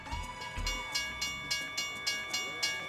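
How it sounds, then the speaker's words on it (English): A big passenger train rolls past on a scenic rail route in American Truck Simulator, with a steady clickety-clack rhythm of wheels over rail joints repeating about twice a second under a sustained tonal hum. "Nice big passenger train."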